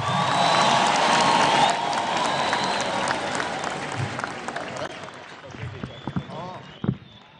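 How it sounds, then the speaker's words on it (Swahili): A large crowd at a formal military farewell ceremony for Kenya's President Uhuru Kenyatta breaks into loud, close applause that fades after about two seconds into scattered claps and talking. "Shangwe na vigelegele kwake Mheshimiwa Rais, makofi mazuri"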